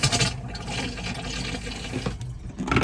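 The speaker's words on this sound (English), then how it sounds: "it's a freshwater flushing toilet. So press the button here" A freshwater flushing toilet in a Chausson Flash S2 motorhome flushes, a steady rushing wash of water running for a few seconds, close and fairly loud.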